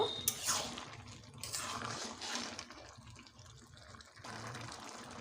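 Cooking water left over from pressure-boiling dried peas for ghugni pours into a pan, giving a steady splashing gush with a brief surge near the start and again at the end.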